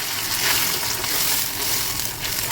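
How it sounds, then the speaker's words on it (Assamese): Onion and spice paste frying in hot oil for a raw banana sabji, giving a continuous, close, loud sizzle with soft stirring and no talking. "আৰু এইখিনি এতিয়া অলপ ভাজি ল'ম মই লাল হোৱালৈকে।"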